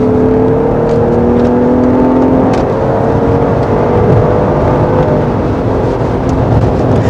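A gasoline Lincoln Aviator SUV with a torquey American engine accelerates hard, its steady engine drone and road roar rising slightly in pitch, heard from inside the cabin.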